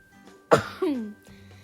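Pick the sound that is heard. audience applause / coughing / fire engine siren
coughing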